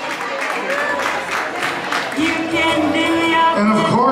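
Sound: applause

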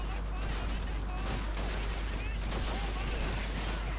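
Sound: gunfire in the video game Call of Duty 2

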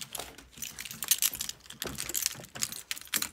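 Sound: door being locked with keys

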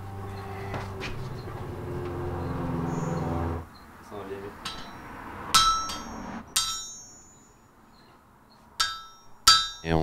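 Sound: hammer striking iron on anvil in forge

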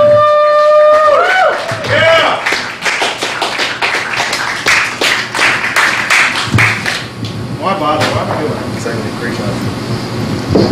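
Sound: comedy club audience applause

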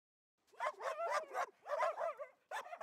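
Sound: dog barking

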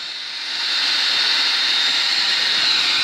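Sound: small engine running with choke

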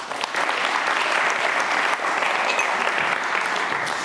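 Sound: applause

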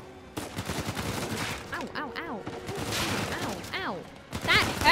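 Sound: gunfire in video game Uncharted 4

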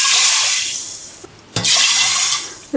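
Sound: pouring half cup of water into pressure cooker with green gram

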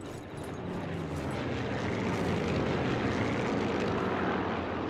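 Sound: airplanes flying overhead in video game Sniper Elite 4

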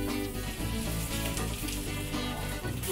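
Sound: frying with scallion oil

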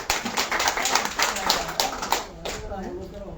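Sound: audience clapping to welcome school committee president

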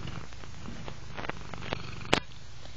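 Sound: cat purring

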